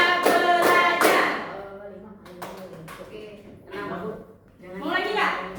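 Students perform a classroom clapping routine: three loud group claps in quick succession open, then quieter scattered taps and voices, with another burst of clapping near the end mixed with talk.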